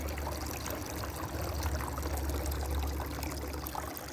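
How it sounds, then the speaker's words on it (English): A garden water feature trickling and splashing steadily, a continuous close wash of running water with no pauses and no voices. "And here's my water feature that I told you about."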